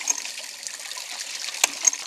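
Water trickles and gushes steadily through a reopened ram pump delivery pipe into a pressure tank, a close, hissy rushing flow with a brief louder surge.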